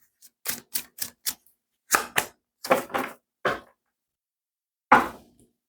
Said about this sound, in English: after all that shuffling I just did